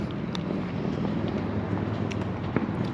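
Strong wind buffets a Sprinter van on a road trip, a steady loud rumbling roar with low buffeting and occasional faint clicks, no talking.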